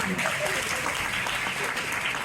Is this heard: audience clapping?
yes